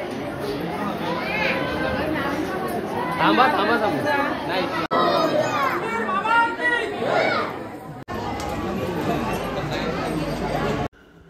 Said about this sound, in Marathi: गर्दी फुल आहे एकदम।